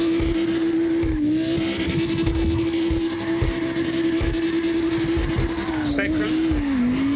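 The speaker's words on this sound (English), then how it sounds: "Clutch down, handbrake again. Slide it again." Lamborghini drifting under handbrake in the CarX Drift Racing video game, a steady droning engine note holding pitch with dips as the car slides, with a voice talking over it throughout.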